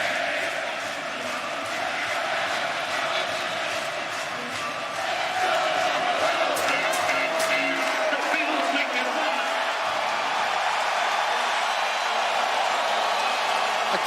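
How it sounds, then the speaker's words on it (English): Stadium crowd roaring at an NFL football game between the Cowboys and the Bills, a steady, massive wall of cheering that swells louder midway and holds at full intensity, with no one speaking over it. "This crowd's too good. I'll let you enjoy the crowd."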